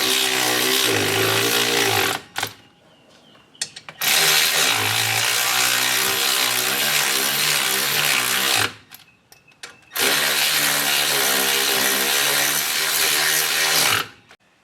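A power tool runs in two long loud bursts, tightening the wheel hub assembly bolts on a Subaru Forester, with a brief gap between the bursts and a short pause before the second run.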